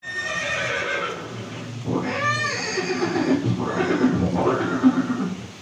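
A horse in a historical battle drama scene lets out a loud, close whinny, followed by a couple of shorter neighs and snorts over a low rumbling background.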